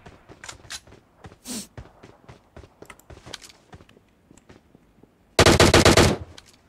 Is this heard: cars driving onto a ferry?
no